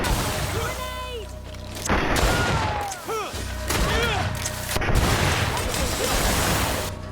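Grenade blast in the Greedfall video game, a heavy booming burst amid a busy combat mix of clashes and shouting, with a second loud impact following a few seconds later.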